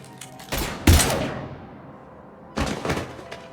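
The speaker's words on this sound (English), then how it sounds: "Now open fire!" Gunfire breaks out in Mass Effect 3: a loud sharp burst, a longer rattling volley that trails off, then another burst of shots after a brief lull.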